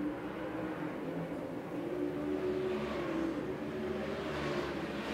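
Super late model race cars roaring around the track in a heat race, a continuous dense engine drone with slight rises in pitch, steady and fairly distant, no voices.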